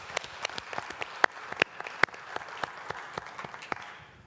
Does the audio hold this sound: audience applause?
yes